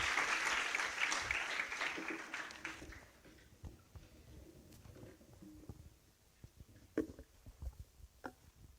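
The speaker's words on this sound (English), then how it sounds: "A round of applause, ladies and gentlemen. Can you be louder?" Audience applause for a chief guest at a university summit, dense clapping loud at first then thinning into scattered individual claps over several seconds.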